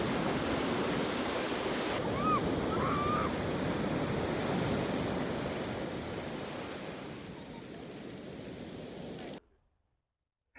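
Atlantic Ocean surf on Praia do Guincho beach in Portugal gives a steady, broad roar of breaking waves mixed with wind buffeting the microphone, gradually easing before cutting to silence near the end.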